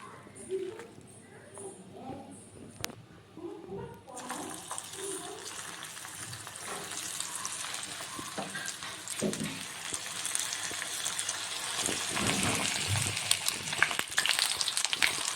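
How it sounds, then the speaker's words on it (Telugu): Soya chunk pakoda batter dropped piece by piece into hot oil for deep frying, a steady sizzle that grows denser and louder as more pieces go in, with faint voices and clatter early on. "ఆయిల్ కాగిపోయిందండి ఇప్పుడు ఇందులో ఒక్కొక్కటిగా కలుపుకున్న మిశ్రమాన్ని వేయాలి"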